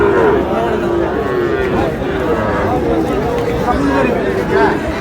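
A busy cattle market at Raniganj haat in Rajbari, crowded with young bulls, heifers and calves, fills with loud continuous babble of many voices, low lowing moos rising through the din.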